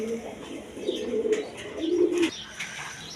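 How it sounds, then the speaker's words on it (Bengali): A pair of Chuachandan pigeons coo close by in a few drawn-out throaty phrases, with faint voices in the background. "এইখানে এক পেয়ার চুয়াচন্দন কবুতর দেখেন"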